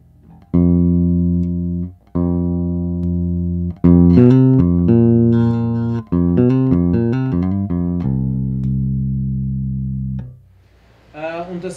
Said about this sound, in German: wenn ich die Mitten ziemlich reindrehe und dann mit dem Schalter hin und her schalte.